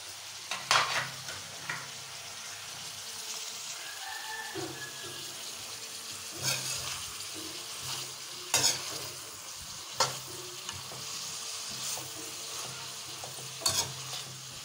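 Cabbage stir-fried for fried rice, a continuous close sizzle with periodic sharp scraping and clacking strokes of the spatula against the pan and no talking.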